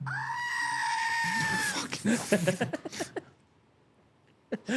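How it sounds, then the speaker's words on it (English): A loud, sustained goat-like scream from a noise machine held up to a microphone holds for about two seconds, breaks into choppy bleating sputters, then goes quiet before a brief final burst. "a little tiny goat screaming into the microphone."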